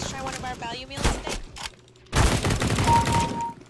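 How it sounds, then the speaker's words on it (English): Gunfire in the video game CS:GO on a custom map, bursts of rapid shots in two clusters with a louder, denser volley in the second half, mixed with game sounds. "I hear guns. I hear gunshots."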